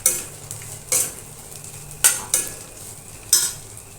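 Indian gooseberries (awala) roast in hot oil in a kadhai for pickle, with a soft background sizzle broken by five or six sharp spatula scrapes and clinks spaced about a second apart.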